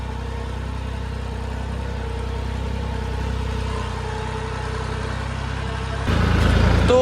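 A Swaraj 744 turbo tractor engine runs steadily at a low, constant rumble, close and fairly loud, then the tone changes and grows louder near the end. No one speaks.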